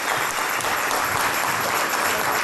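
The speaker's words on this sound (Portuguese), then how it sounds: "Uma salva de palmas ao Senhor." Dense, even applause fills a Thanksgiving church service held in London for the 40th anniversary of Angola's independence, a continuous crowd of clapping hands with no pauses.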